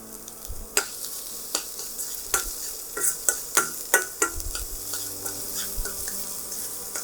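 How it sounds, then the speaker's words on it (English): Red onions and ginger sizzle in a pan under a soft frying hiss, broken by a series of sharp scraping stirs that come close together in the middle. "Adding some red onions. Adding a little ginger."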